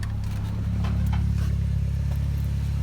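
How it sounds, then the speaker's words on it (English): A 2004 Saab 9-3 with a straight-pipe exhaust idles in neutral just after starting, a close, steady low rumble with a slight swell partway through and no talk. "my car started up"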